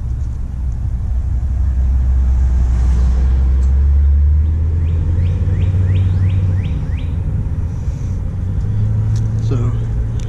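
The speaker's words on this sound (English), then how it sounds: "Car's coming." A car passes along an urban street, its engine and tire rumble swelling to a loud peak and then fading away, with faint bird chirps above the steady roar.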